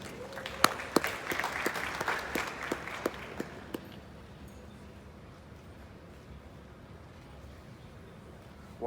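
Audience applause at a conference hall during the final day of a Ghana digital event, a scattered round of clapping with distinct sharp claps for about four seconds before fading into quiet room tone.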